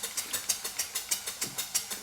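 Small model engine running, a quick, even series of sharp puffing chuffs at about four beats per second, close and moderately loud with no talking.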